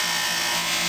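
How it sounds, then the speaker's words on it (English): A drill spins a red brass rod held in its chuck, giving a steady, bright, continuous whir and rubbing hiss for just under a second, with no voices. "I've got the red brass in the drill chuck, and this does generate some heat"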